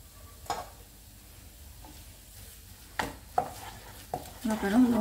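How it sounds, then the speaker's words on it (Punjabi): Coconut burfi mixture with condensed milk being stirred in a pan, giving soft scraping and utensil knocks over a faint sizzle, with a few sharper clinks near the end. "ਹੁਣ ਆਪਾਂ ਇਹਨੂੰ ਹਿਲਾਉਂਦੇ ਰਹਾਂਗੇ।"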